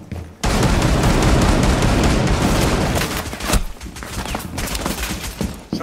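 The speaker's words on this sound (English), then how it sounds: "Someone's shooting me from bathroom window." Gunfire in Rainbow Six Siege during a House map team deathmatch: a loud, sustained fusillade of rapid shots roaring continuously, then breaking into scattered bursts and single cracks near the end.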